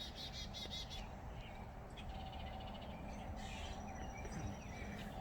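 Faint bird calls, including crow-like caws and scattered chirps, drift through a steady outdoor background hiss with no one talking.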